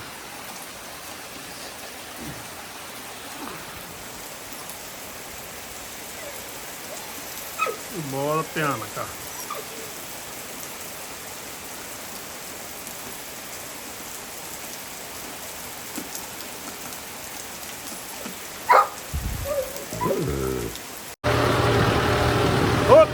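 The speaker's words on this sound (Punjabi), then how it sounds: "ਬਾਰਿਸ਼ ਫੇਰ ਆ ਗਈ ਅੱਜ" Steady rain patters down on paddy fields throughout, a soft continuous hiss, with a few short bursts of nearby talk partway through and near the end.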